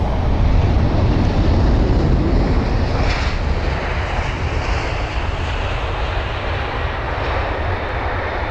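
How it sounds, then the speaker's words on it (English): A Cathay Pacific airliner moving on the ground at London Heathrow, its jet engines giving a loud, continuous roar with wind rumble on the microphone, easing slightly in the second half. "let us watch the Cathay Pacific's, I'd say taxi, but I'll just say movement instead"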